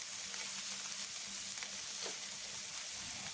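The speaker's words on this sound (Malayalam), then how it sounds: "മല്ലിയിലയും കൂടി ഇട്ട് കൊടുത്തതിന് ശേഷം വീണ്ടും നമുക്കൊന്ന് ഇളക്കി കൊടുക്കാം" Mint and coriander leaves fry in a pan for chutney while being stirred, a soft, steady sizzle with faint scraping strokes, quiet and close, and no talking.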